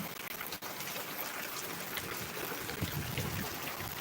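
Heavy rain falls steadily for hours, a dense, even broadband hiss of water pouring down close by, with no talking.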